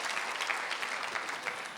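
Applause for Jesus fills a church morning prayer service, a dense, steady wash of many hands clapping together, moderately loud and sustained throughout without breaks.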